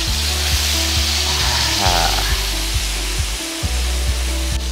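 Red snapper coated in masala roasts in a frying pan with a continuous close sizzle, while a low mechanical hum pulses rhythmically underneath.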